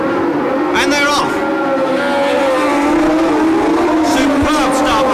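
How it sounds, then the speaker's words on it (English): At the 1976 Formula 1 United States West Grand Prix, race cars start on the street circuit with loud, roaring engines and rising revs as they sweep past. A commentator talks over them throughout. "There they are, roaring down Linden Avenue."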